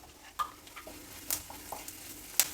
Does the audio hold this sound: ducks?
no